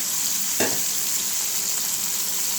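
Small puti fish (pool barb) frying in oil in a home kitchen pan: a steady, close hiss of sizzling fat throughout, with one brief louder crackle or stir early on, and no voices.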